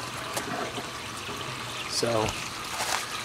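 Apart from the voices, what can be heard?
water flowing through valves into an IBC aquaponics grow bed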